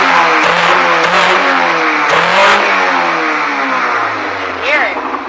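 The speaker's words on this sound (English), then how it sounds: "You get that really, a lot of intake noise." A 1987 Pontiac Fiero GT with a swapped K20 engine revs hard, and loud intake roar swells with rising pitch, then falls and settles toward idle. The sound is close, with a brief voice or whoop near the end.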